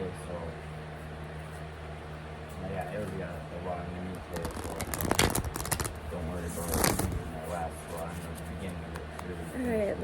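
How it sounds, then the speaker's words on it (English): Tarot cards being shuffled by hand during a tarot reading, a soft papery riffling under a steady room hum, building to a couple of brisker flurries midway. "One more shuffle."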